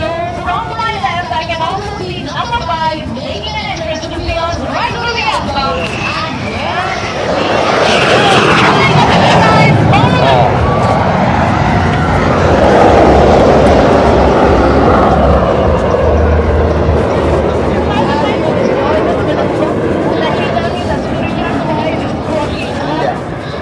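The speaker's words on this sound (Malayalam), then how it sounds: "മലയാളി പൈലറ്റ് പറത്തുന്ന വിമാനമാണ് നമുക്ക് മുന്നിലൂടെ പറന്നുകൊണ്ടിരിക്കുന്നത്." Indian Air Force Suryakiran aerobatic team jets roar past over Trivandrum, a loud sustained engine rush that swells in the middle, with a crowd murmuring and a voice talking throughout.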